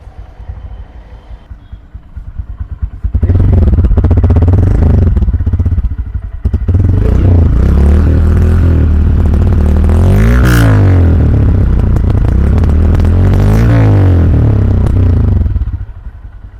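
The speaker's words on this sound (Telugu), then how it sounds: "ఇప్పుడైతే బైక్ ని స్టార్ట్ చేసి సౌండ్ బీట్ ఎలా ఉందో చూద్దాం" A Honda Hornet 125 motorcycle engine starts after a brief quiet idle, then revs loudly in several rising and falling bursts before settling, close and alone.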